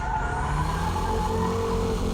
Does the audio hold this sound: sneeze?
no